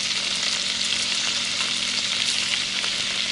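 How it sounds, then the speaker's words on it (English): Chopped onions fry with garlic in a pan, giving a dense, steady sizzle that stays loud and even throughout, close up, with no talking. "I'm gonna add a little bit of these chopped onions into the pan"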